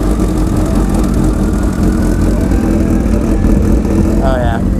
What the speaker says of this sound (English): This will be a cold start on the H2.